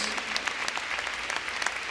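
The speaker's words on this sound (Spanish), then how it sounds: "Vamos a dar un aplauso al Señor" Church congregation applauding for the Lord during a Spanish-language service, a dense steady wash of many hands clapping throughout, fairly loud and continuous.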